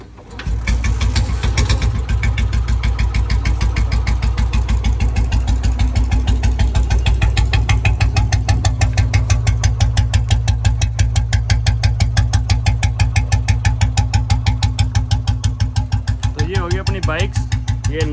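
A 2011 Bullet motorcycle with a custom exhaust set up in Moga, Punjab, idles loud and close with a steady rapid thumping beat that runs throughout, and a voice can be heard faintly under it.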